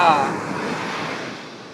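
Ocean surf washes onto a beach with wind, a soft broad rush that swells briefly and slowly fades, with no distinct voice.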